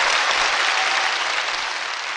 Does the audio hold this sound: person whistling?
no